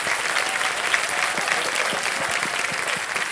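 Dense, steady studio audience applause for a contestant on a televised quiz show, loud and continuous throughout without any voices over it.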